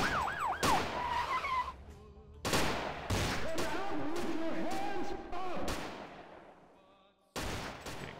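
Gunfire in Vampire: The Masquerade – Bloodlines (The Final Nights mod): several sharp shots burst out in quick clusters, loud and close, separated by brief gaps, with game effects, a rising siren-like tone and scattered noise between them.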